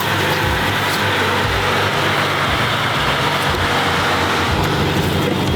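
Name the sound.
gated manual V12 supercar being driven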